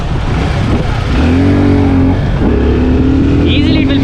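A Suzuki Gixxer 250 BS6 motorcycle engine loud and close during a test ride, revving with rising and falling pitch under steady wind noise and someone talking over it.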